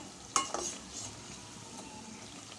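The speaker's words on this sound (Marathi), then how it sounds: "बाकी सुद्धा आपण अशाच प्रकारे तळून घेऊया" Poha vada frying in hot oil, with a quiet steady sizzle and a couple of sharp clinks from stirring near the start, close by and without voices.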